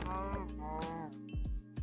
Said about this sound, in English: There are a heckin' load of cows over here.